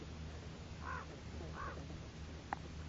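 A raven calls twice with short, hoarse croaks spaced apart, faint and distant over steady low background noise, followed by a brief sharp click.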